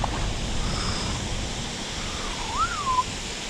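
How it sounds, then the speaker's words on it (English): Waterfall on a Lake Erie tributary, a steady broadband rush of falling water filling the whole stretch with constant even noise, while a brief rising and falling whistle-like tone cuts in near the end. "Good with the waterfall in the back."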